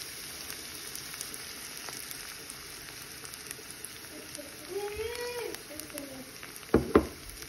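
Eggs for scrambled eggs sizzle in a hot pan with a steady, close frying hiss, joined by a faint voice partway through and a couple of sharp clinks near the end.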